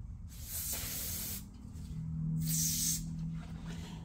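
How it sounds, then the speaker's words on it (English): Ordinary brake cleaner sprayed onto the aluminum front timing chain cover of a Mercedes S550 W222 with the M278 engine, heard as two separate hissing aerosol bursts, the second louder, with quiet gaps between. "clean this with a rag and some just normal brake cleaner"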